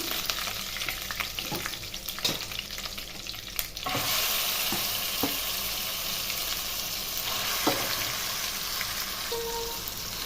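Coconut chutney lands in a sizzling tempering of curry leaves and is fried and stirred in a pan, bringing a burst of crackling followed by a steady close sizzle with occasional utensil scrapes and taps.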